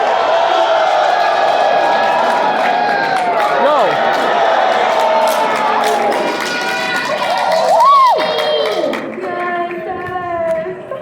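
A crowd at the 2021 Dallas Fan Expo cheers and makes noise: a loud, continuous din of overlapping shouts and whoops, with individual voices rising above the mass.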